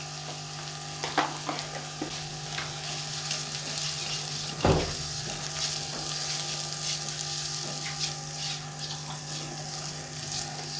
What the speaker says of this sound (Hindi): सिर्फ 2 से 3 मिनट के लिए इसको फ्राई करें।